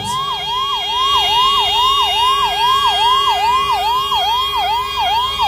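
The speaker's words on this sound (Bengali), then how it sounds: "অ্যাম্বুলেন্স।" Ambulance siren in a Republic Day police parade of the Paschim Medinipur District Police, a loud, close electronic wail repeating in rapid regular rising sweeps, steady throughout with no talk.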